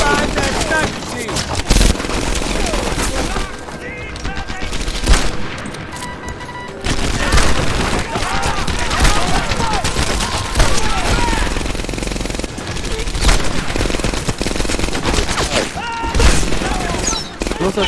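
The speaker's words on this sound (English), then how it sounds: "Gunfire would be louder than the person talking." Dense, sustained battle gunfire in Medal of Honor Airborne: loud overlapping rifle and machine-gun bursts with booms, near and constant, as soldiers shout under the din.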